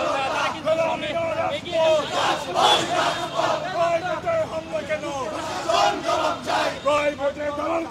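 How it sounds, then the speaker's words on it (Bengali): University students marching toward Shahbag chant protest slogans in unison, a loud crowd of voices rising and falling in a repeated call-and-response rhythm throughout. "তারা বিভিন্ন ধরনের স্লোগান দিচ্ছেন"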